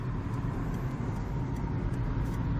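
A car engine pulls steadily under acceleration during a driving lesson on an uphill road in Ankara, a continuous low rumble from inside the cabin with road noise and no pauses.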